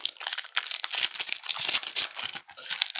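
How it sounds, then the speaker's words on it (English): Small paper number slips are shuffled and crinkled by hand, a close, busy run of rustling and crumpling with no talk over it. "Y'all saw me shuffling numbers."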